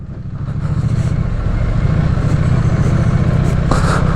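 A Triumph Street Twin motorcycle engine runs steadily and loudly at low revs, a deep continuous rumble that holds even throughout.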